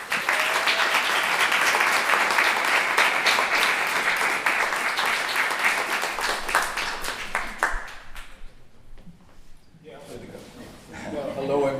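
A museum audience applauds to welcome the artists at an artist talk, loud sustained clapping that fades out near the end, leaving a brief quiet stretch before faint room sound returns.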